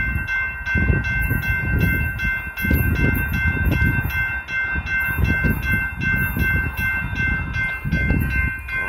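A BNSF hopper freight train rolls past the Fondren Road crossing, its loud, steady rumble and rhythmic wheel noise filling the scene up close, with crossing bells ringing continuously above it.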